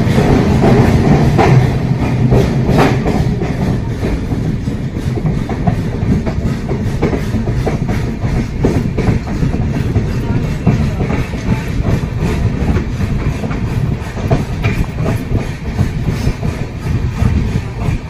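The Konkan Kanya Express runs on the Konkan Railway from Mumbai to Madgaon. A loud, continuous rumble with clickety-clack from the wheels fills the carriage throughout.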